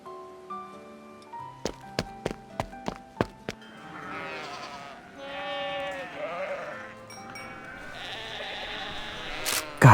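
Sheep bleat in a video game scene, several wavering cries in the middle after a run of sharp tapping thunks, with game music and effects around them.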